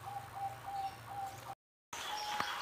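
A zebra dove (perkutut) gives soft, repeated coos amid a quiet background, the call phrases recurring rhythmically before a short gap and resuming afterward.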